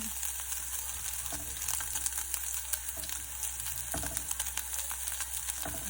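Chicken fries in a pan with a low, steady sizzle and crackle, faint and even with small pops scattered throughout.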